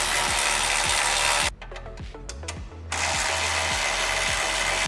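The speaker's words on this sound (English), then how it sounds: "we're gonna take a 12mm socket, 12mm wrench, and go ahead and remove the hardware" A 12mm socket ratchet and wrench work bolts loose on a Honda Rubicon ATV, giving a quick series of close, sharp ratchet clicks in a short burst amid steady workshop noise.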